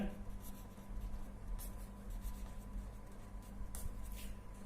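A physics teacher writes on a board during a lesson on light reflection, faint intermittent scratching strokes over a quiet room hum, with no talk.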